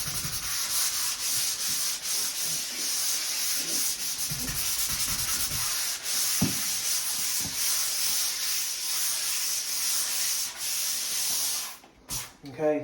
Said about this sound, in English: Okay, so that is my sanding here.